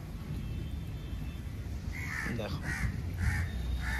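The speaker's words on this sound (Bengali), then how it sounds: "এইখানে কাকটা চেঁচাচ্ছে" A crow caws repeatedly in a garden during the rainy season, about four harsh calls in a steady rhythm over a constant hiss of background noise, with one brief spoken word early on.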